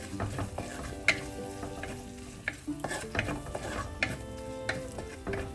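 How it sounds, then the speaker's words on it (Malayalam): Sardine pepper fry with Kashmiri chilli powder added is stirred in a pan, producing repeated scraping and clacking spoon strokes over a soft, continuous sizzle. "കാശ്മീരി മുളക് പൊടി ഒരു ഒന്നര ടീസ്പൂൺ എല്ലാം കൂടി ചേർത്ത് നന്നായി മിക്സ് ചെയ്യാം"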